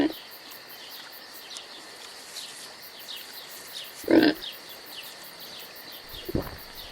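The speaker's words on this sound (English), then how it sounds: "So Dorian gets a job feeding pigs" Pigs give a brief grunt midway and a fainter one near the end, over a steady bed of chirping crickets or insects.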